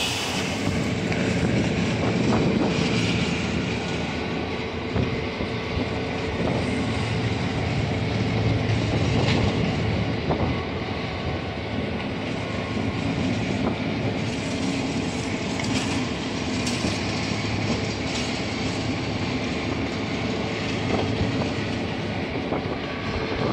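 An Adrian & Blissfield dinner train led by a GP9 diesel locomotive rolls past, paced from a parallel road: a steady, loud rumble with clickety-clack wheel noise running throughout, no voices.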